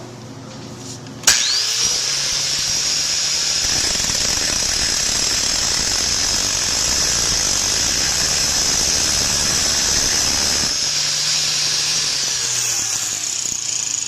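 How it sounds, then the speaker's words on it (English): A brand new grinding stone is pressed against a ceramic composite wear coating, giving a loud, steady high-pitched grinding whine that starts abruptly and holds evenly for about nine seconds before the tool spins down. "I'm going to grind on this ceramic so you can see how much wear there is from a brand new grinding stone"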